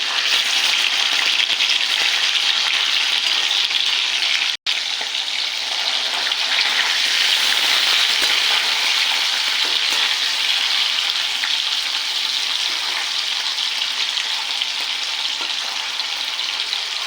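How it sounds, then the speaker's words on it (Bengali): Paneer fries lightly in oil in a pan, giving a loud, continuous sizzle that holds steady throughout, cut by one brief dropout partway through. "পনিরটাকে হালকা ভেজে নেবো, বেশি ভাজবো না, তাহলে শক্ত হয়ে যাবে।"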